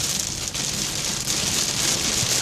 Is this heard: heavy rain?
yes